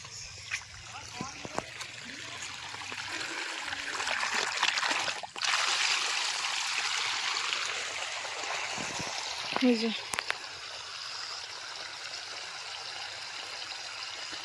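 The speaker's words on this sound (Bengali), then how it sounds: "ওই যে জল যাচ্ছে এখন মাঠে" Water from a tank runs out into a field in a steady, fairly close rush and trickle that fills the whole stretch, with a brief splash near the end.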